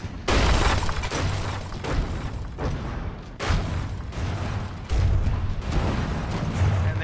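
Tank guns fire in the video game From The Depths during a tournament battle. Heavy booming, crackling blasts come in several loud bursts at irregular intervals over a constant rumble.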